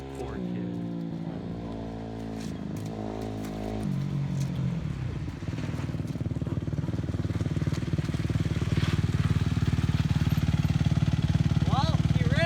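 A small dirt bike engine runs steadily close by on a gravel driveway, its drone rising in pitch over the first few seconds and then holding loud and continuous, with people talking over it.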